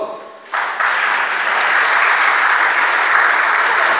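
Audience applause breaks out sharply at a live music show, rising to a dense, sustained clapping that fills the room and holds steady at full strength to the end.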